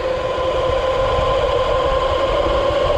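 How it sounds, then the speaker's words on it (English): A portable generator runs at a steady, loud drone with a constant hum and engine rumble, outdoors, charging batteries for an electric bike, with no voices. "I'm gonna fire up the generator and we're gonna charge both batteries out for the bike"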